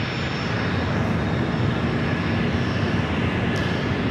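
A heavy Boeing 777 landing on runway 25 left at LAX, a steady loud broadband roar of jet engines from a distance, constant throughout without pauses or talk.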